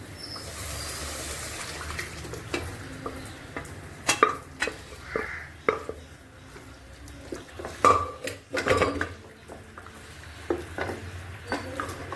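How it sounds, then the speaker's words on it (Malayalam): Boiled chicken parts, cooked earlier with turmeric and salt, are stirred into masala in a pan, with a steady run of clanks and scrapes from a spoon against the metal, close and irregular, and no talking. "നമ്മൾ മഞ്ഞൾപ്പൊടി ഉപ്പിട്ട് വേവിച്ച് വെച്ച പാർട്സ് അതിലേക്ക് ചേർത്ത് കൊടുക്കാം"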